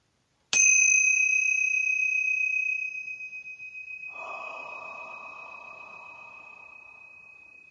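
Tingsha bells strike once with a bright metallic clang, their pure high tone ringing on and slowly fading, followed by a soft breathy rustle under the lingering resonance.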